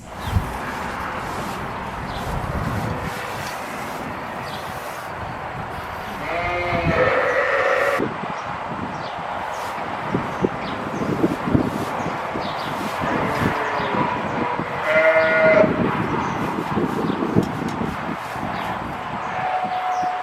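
Ewes on a farm at lambing time, several drawn-out bleats rising at intervals over a steady outdoor rustle, moderately near.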